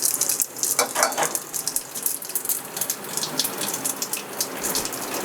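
Whole dried red chillies and cumin seeds crackle and sizzle in hot oil, a dense steady frying hiss with scattered sharp pops running through throughout, close up and fairly loud with no talking.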